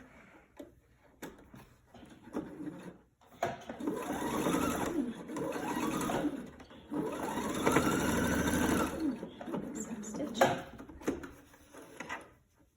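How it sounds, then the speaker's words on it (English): A sewing machine stitches elastic onto the bottom of a fabric face mask. It gives a close, steady mechanical whir in long runs, with short pauses and a few knocks and clicks between them, and no talking. "I'm just attaching it to the bottom here. Just stitch that on right here."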